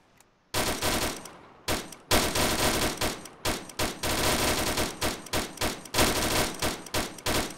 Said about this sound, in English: let's just put some fire down on the hill